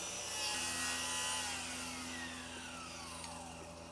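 A saw rasps steadily through wood with a continuous grinding drone, close and fairly loud, easing slightly toward the end.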